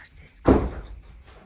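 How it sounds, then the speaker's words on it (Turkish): A single heavy door slam in a house during a stormy, windy night, one sharp loud thud with a brief low rumble after it, between faint voices in the background. "Ay çok kötü kapı sesleri geliyor."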